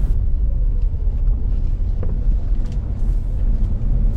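A car engine climbing a steep road in first gear, a loud, steady low rumble with wind buffeting and no talking.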